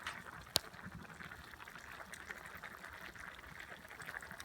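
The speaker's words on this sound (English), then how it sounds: "It's bubbling like crazy." Paella broth bubbling steadily in a pan over a wood fire, a soft continuous simmer with one sharp crackle or pop near the start.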